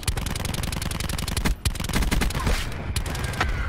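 Automatic gunfire from a weapon in the Black Ops 4 shooter game, rapid continuous bursts close and loud with only a brief pause mid-stream.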